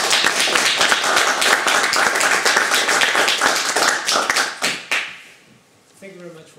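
A lecture audience gives a dense burst of applause that lasts about five seconds and then tapers off into quiet.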